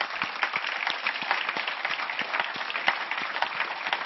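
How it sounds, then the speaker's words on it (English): Steady applause from a corporate investor-event audience honoring a departing executive, a dense continuous wash of many hands clapping at even loudness with no talk over it. "let's have another round of applause for Andrew"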